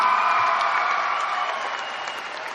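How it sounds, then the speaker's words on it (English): Steady audience applause at a 2015 high school graduation ceremony as seniors thank their parents, relatives, friends and teachers, a dense wash of many hands clapping that holds strong then eases slightly, with no voices over it. "Seniors, please give your parents, grandparents, aunts, uncles, friends, and teachers a round of applause for you to say thank you to them."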